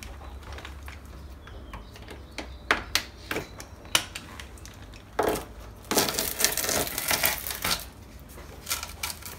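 A kick plate is peeled off the outer sill of a Classic Mini, with irregular clicks and taps followed by a longer ripping, crackling tear, close up with no voices.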